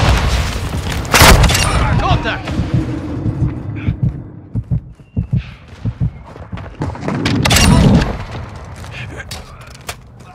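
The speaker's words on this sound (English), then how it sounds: "Friendly mortar strike on the way." Mortar strike in Call of Duty: Modern Warfare II: heavy booming blasts land in bursts, a loud close impact early and another rumbling cluster later, with scattered thuds between.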